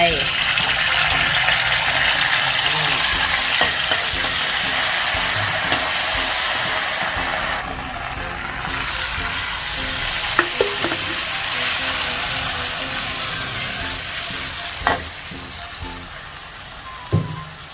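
Eggplant stir-frying in oil for a basil eggplant dish, a loud continuous sizzle and hiss close by with occasional sharp spatula clacks against the pan.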